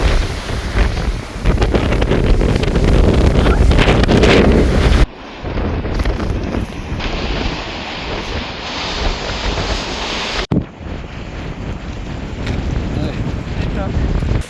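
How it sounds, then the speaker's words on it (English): Strong gusts of wind roar across the microphone on an exposed mountain summit during the Alex Knob hike near Franz Josef, New Zealand, a loud continuous buffeting that rises and falls with brief drops between blasts. "out there was obviously way too windy"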